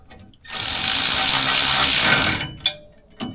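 A tool runs for about two seconds with a loud, dense mechanical whir while bolts are tightened on polyurethane drivetrain mounts of a K5 Blazer in a garage, then a couple of short clicks follow.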